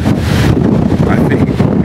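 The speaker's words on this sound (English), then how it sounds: "I know it's windy." Wind blows across a ferry deck on the crossing to Margarita Island, Venezuela, a loud steady broadband rush with microphone buffeting that fills the whole stretch without a break.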